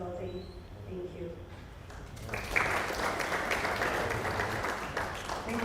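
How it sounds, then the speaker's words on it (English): Applause from a conference audience for a female presenter, rising after a brief stretch of talk and continuing as steady, moderately distant clapping. "Please give her another round of applause."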